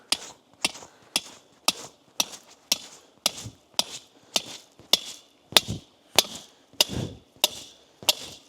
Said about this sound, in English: Let me put this post there, and then we're gonna hammer.